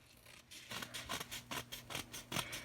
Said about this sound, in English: I'm going to go ahead and just take my scissors and trim a little bit off